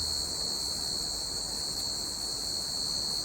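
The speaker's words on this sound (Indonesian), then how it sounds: "malam ini ditemani suara jangkrik" Crickets chirp at night in a steady, dense, continuous high-pitched trill that holds level throughout, with no other sounds.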